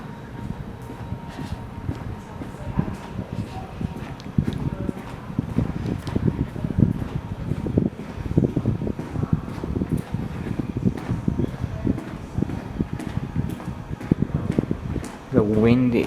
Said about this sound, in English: The wind is beginning to become a factor, so you may start to see some somewhat more blizzard-like conditions.